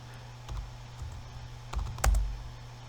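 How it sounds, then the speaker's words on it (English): A computer keyboard is typed on while coding a Python program, a handful of soft keystrokes spaced irregularly over a quiet background. "Let's say you typed 9."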